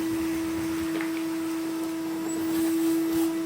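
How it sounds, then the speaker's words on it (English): Household hoover running steadily while sucking up soot during the sweeping of a Franco Belge wood burner, a constant motor hum with a strong steady tone and occasional rattling pickup. "Always hoover as you're going along."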